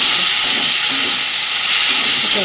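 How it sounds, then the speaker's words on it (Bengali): Chicken frying in oil in a kadai, a loud, close, continuous sizzle and hiss with faint stirring scrapes underneath. "চিকেনটা ভেজে নিই"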